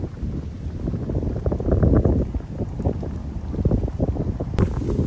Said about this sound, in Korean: 와, 갑자기 바람 불어요.